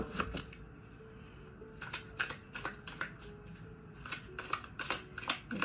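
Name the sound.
shuffling a deck of cards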